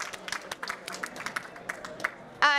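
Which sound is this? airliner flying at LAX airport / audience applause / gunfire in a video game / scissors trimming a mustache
audience applause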